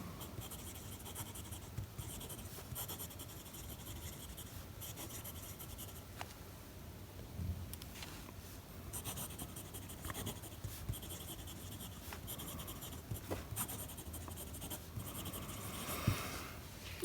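A double-nibbed Indian Mohi fountain pen filled with Lamy bronze ink scratches across paper in soft, intermittent strokes, faint and close, with small pauses between words and a light tap near the end.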